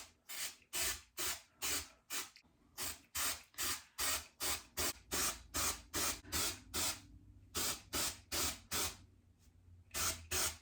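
A spray bottle squirting in rapid, even bursts, dozens of quick hissing sprays close by, with two brief pauses.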